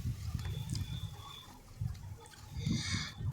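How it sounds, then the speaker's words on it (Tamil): Tamarind water is poured into a rice pot, giving a soft, close trickle and splash that swells and fades in short bursts over a low background rumble. "புளி தண்ணி சேர்த்துருக்கோம்."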